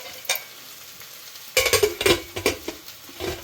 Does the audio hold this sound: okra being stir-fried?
yes